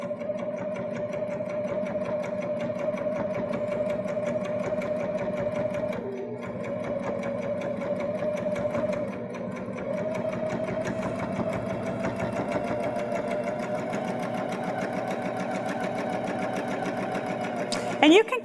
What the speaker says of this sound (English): And then we'll sew to the ends.